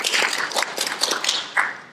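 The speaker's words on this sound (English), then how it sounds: "So let's give them a round of applause." A round of applause for students at a school presentation event, dense overlapping clapping from a crowd sustained through the whole moment, fairly loud and steady with no talk over it.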